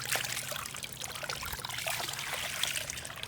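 Water pushed by a SEAFLOW pump through a gold dredging pan in a creek, a continuous close trickling and splashing flow with gurgling texture, steady throughout and heard alone.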